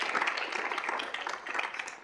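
Applause from a university student-involvement audience, a dense patter of many hands clapping steadily at moderate volume with no voices over it.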